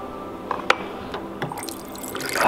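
Cold water from a coffee machine drips into a cup, a few distinct close drops followed by a light running trickle that builds toward the end, with no talk.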